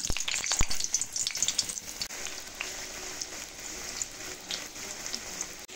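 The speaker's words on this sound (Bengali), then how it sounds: "এখন এক এক করে আলুগুলো দিয়ে ভেজে নেব।" Potatoes frying in hot mustard oil give a steady, close crackling sizzle, busiest and loudest at the start with sharp pops, then settling into an even, dense spatter with no talking.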